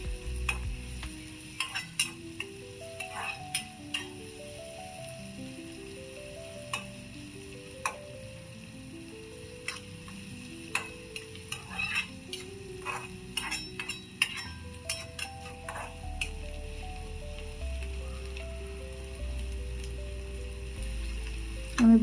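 Poha tempering sizzles quietly in a pan while a spoon stirs it, giving irregular soft clicks and scrapes over a steady low background with a faint tonal hum.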